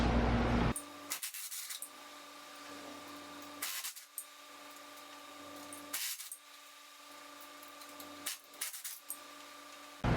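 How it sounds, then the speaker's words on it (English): Hand tools working on the drive shaft flange bolts of a third-generation Toyota Tacoma, with several bursts of metallic rubbing and ratcheting separated by quieter pauses, close and moderately loud over a steady background hum. "So you go ahead and remove your drive shaft bolts."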